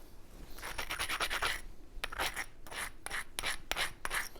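Obsidian blade edge being abraded with a grit abrasion stone during flintknapping, a series of close, rhythmic dry rasping strokes in short bursts, with no talking.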